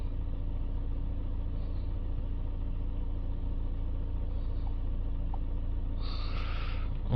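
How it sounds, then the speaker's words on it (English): Diesel engine of a Renault Trafic van revved, a steady loud low rumble close by throughout, with a brief rise in higher-pitched engine noise near the end. "Let's give it a rev. Let's get the engine speed up as well"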